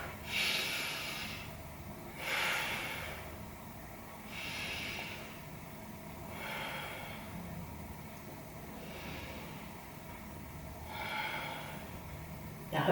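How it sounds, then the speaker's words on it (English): Slow deep breaths during a yoga session, about five long airy inhale and exhale swells spaced a couple of seconds apart, close and fairly quiet, with no talking. "Let's take 3 big breaths."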